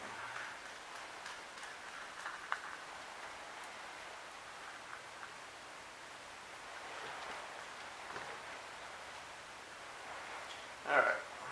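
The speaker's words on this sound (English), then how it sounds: "it's raining hard now." Heavy rain falls steadily around a Ford Ranger outdoors in Delaware during brake and hub work, a constant broad hiss with small patters and one brief knock near the end, and no talk.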